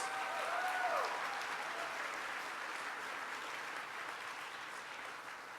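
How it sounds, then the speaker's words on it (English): Steady applause from an audience at a youth summit, a continuous wash of many hands heard from a distance, quiet and even throughout, with a brief whistle near the start. "Let's give Christian a round of applause"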